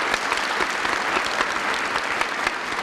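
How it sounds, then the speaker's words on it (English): An audience at a university spring convocation gives a round of applause: thick, continuous clapping from a large crowd, loud and even throughout. "So please, let's give our partners a round of applause."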